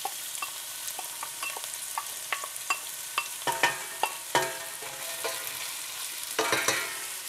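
Onions go into cooking pots, with a steady sizzle under a series of sharp knocks and scrapes from stirring, moderately loud and close, with no one speaking.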